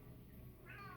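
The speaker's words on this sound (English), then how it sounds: "I'm sorry if you can hear my cat in the background." Short meow from a pet cat in a home room, rising near the end of the second over low background hum, faint and alone without talk.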